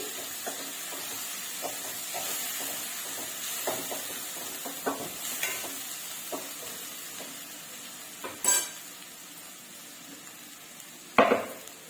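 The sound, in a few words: frying masala in oil for fenugreek-leaf chicken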